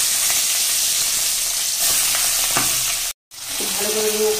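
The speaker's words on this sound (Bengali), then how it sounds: "মাছের মাথা ভাজার জন্য কড়াইতে আগেই তেল দিয়ে দিয়েছি, তেল গরম হয়ে গেছে, মাছের মাথাগুলো ভেজে নিই।" Rohu fish heads frying in hot oil in a wok, a steady loud sizzle throughout with bubbling crackle and a brief silent gap near the end, with no talking.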